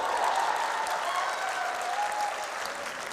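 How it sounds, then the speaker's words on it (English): Audience applause fills the room steadily for about three seconds, with a faint voice briefly audible underneath and the clapping easing slightly toward the end. "Clap for yourself for looking like that."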